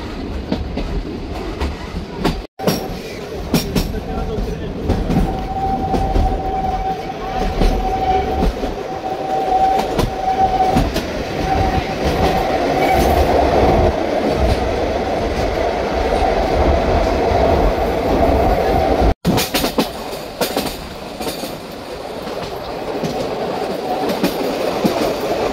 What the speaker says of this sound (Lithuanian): Tie traukinukai yra sukurti 1912 metais ir po šiai dienai važinėja šita trasa, kurioje yra 5 tiltai